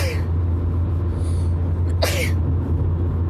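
A single loud sneeze bursts out midway, sharp and close, over a steady low hum.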